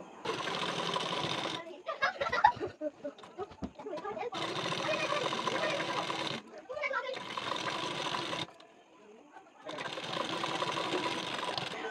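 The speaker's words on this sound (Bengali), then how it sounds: "নেবার পর ঠিক এখান থেকে বসিয়ে সেলাইটি দিয়ে নেব।" A sewing machine stitches a waistband strip onto a blouse in three long steady whirring runs, close and fairly loud, with someone talking during the pauses between them.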